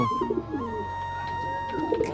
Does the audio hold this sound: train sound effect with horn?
no